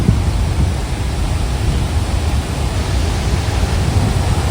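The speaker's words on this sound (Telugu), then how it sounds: "Athirappilly water fall, Baahubali water fall." Athirappilly waterfall in Thrissur, Kerala roars in a steady, loud, dense wash of falling water and spray during rain, with no voices over it.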